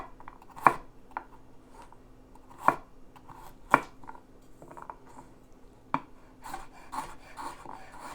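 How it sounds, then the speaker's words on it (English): A knife cuts a broccoli stem into rounds on a cutting board, four or five sharp separate chops with crunchy slicing between them in a quiet room. "you can slice it either into rounds or other fancy shapes if you want"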